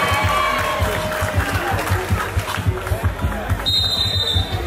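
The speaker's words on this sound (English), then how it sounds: "The crowd here is getting crazy for Algeria." Arena crowd at an All African Games men's basketball group match, Botswana against Algeria, roaring and cheering for Algeria in a steady loud wash, with ball bounces and a commentator talking over it.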